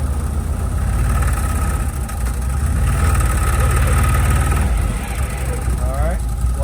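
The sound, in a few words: CFMOTO UFORCE 1000 engine running in low gear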